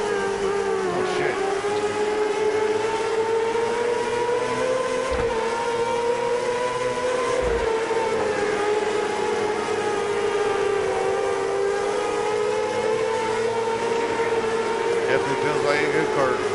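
Dirt race car engine in the World of Outlaws Dirt Racing 24 video game on PS5: a loud, continuous buzzing roar that rises and falls in pitch across the lap, with a couple of brief knocks.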